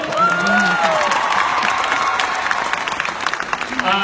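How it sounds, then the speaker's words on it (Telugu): An audience at the IIFA 2017 awards applauding, loud sustained clapping and crowd noise, with a few voices and a brief whistle-like tone near the start. "కొంచెం క్లాప్ కొట్టండి."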